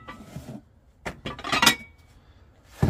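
Noritake china dishes clink and knock together as they are handled in a storage locker unit, a few short sharp clatters at close range with quiet pauses between them.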